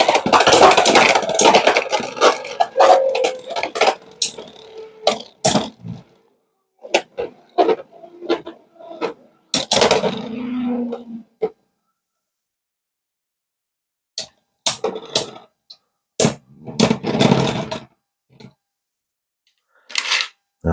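Beyblade X tops ripped from launchers and clashing in a plastic stadium, sharp clacks and scraping spins in quick bursts separated by brief pauses, close and loud, with no talking.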